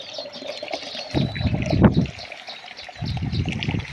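Water pours into a metal pot in two splashy bursts with a short pause between them, close by and fairly loud.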